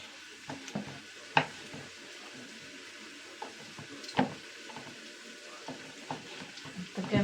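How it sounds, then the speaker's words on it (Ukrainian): Small pieces of pork skin sizzling and crackling in a hot pan, a steady frying hiss with scattered sharp pops and a few clinks, fairly quiet and close. "І нарізаю на маленькі шматочки і буду смажити."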